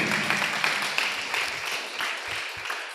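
A church congregation claps along during a Christian sermon, a steady, moderately loud patter of many hands that thins toward the end, with no talk over it.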